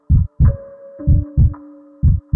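A heartbeat thumps in loud, paired beats separated by pauses, alone over a faint steady electronic tone, with no voices.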